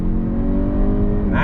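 A 2022 Kia Stinger GT-Line under acceleration on throttle, its engine droning steadily and climbing slightly in pitch, heard from inside the car over a short stretch.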